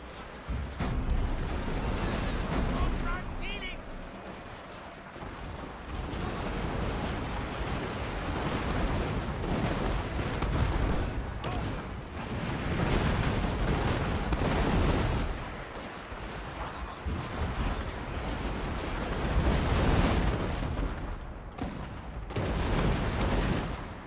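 Heavy artillery fire from large-caliber guns in the strategy game Total War: Fall of the Samurai, a continuous stream of loud booms and blasts layered over battle noise for the whole stretch.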